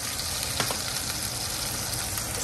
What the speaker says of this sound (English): Just put a little bit of olive oil because it's drying out. And it's kind of like popping.